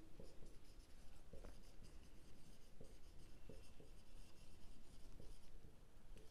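A marker or chalk scratches answers onto a board during a maths lesson on mathematical logic, giving soft, faint strokes and taps in a quiet room.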